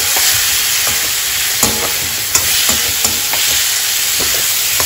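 Fried vegetables and tomato being stirred in a hot pan, a loud continuous sizzle broken by a few scraping knocks of the spoon against the pan, with no talking.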